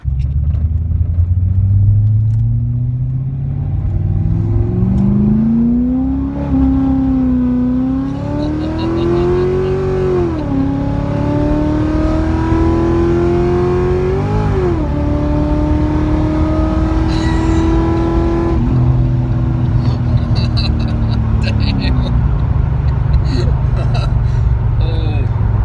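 A naturally aspirated Chevrolet Corvette C6 with an LS3 V8, fitted with racing seats, a roll bar and a harness, revs and pulls hard through the gears in a long, loud climbing drone. Its pitch rises and falls with each shift, and voices can be heard inside the cabin.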